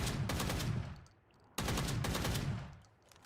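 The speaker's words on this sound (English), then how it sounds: "You can put it on burst fire, too, if you want to, right?" Two rapid bursts of gunfire from a shotgun set to burst fire in PUBG, each a loud, dense rattle of shots lasting about a second before decaying, with a brief quiet gap between them and no voices.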